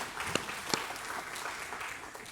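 A church congregation at a Wednesday worship service claps, a steady soft wash of hands with a couple of sharper, louder claps standing out early on, heard somewhat faintly.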